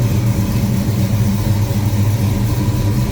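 A 1970 Pontiac GTO convertible's 455 Ram Air V8 runs at a steady idle, a loud, thick low rumble that holds even throughout with no voices.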